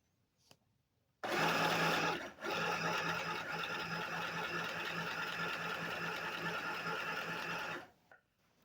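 An Ambiano 12-stitch sewing machine running a standard stitch whirs steadily for about six seconds, loud and close, with a brief dip early on before continuing evenly and stopping.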